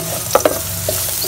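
Garlic frying in a pan with a utensil stirring it, a soft steady sizzle underneath two brief clattering scrapes near the start and a few lighter stirs afterward, close and fairly quiet.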